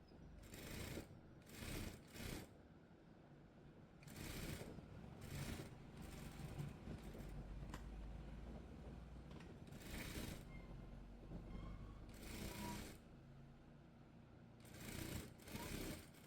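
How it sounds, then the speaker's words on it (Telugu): A sewing machine stitching a frock runs in repeated bursts of rapid whirring, each lasting about a second with short pauses between, close and fairly quiet, no voices. "కుట్టు అనేది వేసేసుకోండి, కింద సైడ్ కూడా అంతే."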